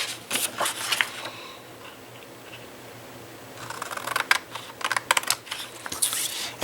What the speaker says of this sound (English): I need to cut that a little bit straighter. And cut this one on this side away.